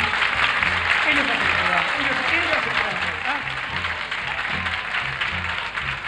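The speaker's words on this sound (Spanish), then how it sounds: "Lo siento que merece un aplauso a toda esa gente, ¿verdad que sí?" A 1978 Chilean television variety-show studio audience applauds the crew, steady clapping running throughout under someone speaking over it.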